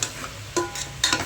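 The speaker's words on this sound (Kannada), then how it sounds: "ಪಾಲಕ್ ಸೊಪ್ಪನ್ನು ಎಲ್ಲ ಮಿಕ್ಸ್ ಮಾಡ್ಕೊಳ್ಳೋಣ" Spinach is stirred into lentil dal in a pan, giving a few short scraping swishes with faint sizzling between them, close by and with no talking.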